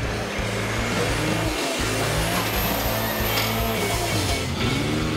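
A 4WD vehicle crawls down onto huge rocks off-road, its engine droning low and loud with steady mechanical rumble, a brief thump and creak as the chassis settles.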